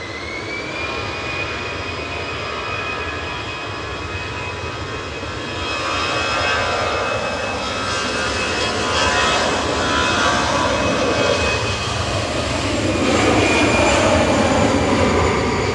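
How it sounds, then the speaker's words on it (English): Turkish Airlines jet from Istanbul on approach to Manchester Airport, a continuous jet engine roar with a high whine that swells louder over the second half as it draws nearer. "Turkish on approach"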